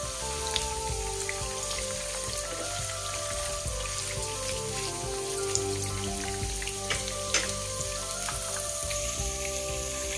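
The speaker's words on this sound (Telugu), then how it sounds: "కలిపి సిమ్లో పెట్టుకొని వేపుకోవాలండి" Bitter gourd and onion sizzle in a pan over a low flame, giving a steady, soft crackle with scattered small pops and a faint tonal hum underneath.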